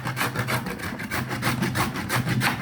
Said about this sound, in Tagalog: may bagong abukado kanina kaya ito gagadgarin ko lahat to